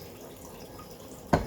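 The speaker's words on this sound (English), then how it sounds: "Give that a nice rinse, because I did just wash all these in bleach." Porcelain teaware is rinsed under running tap water, a steady soft wash of water ending in a sudden brief splash.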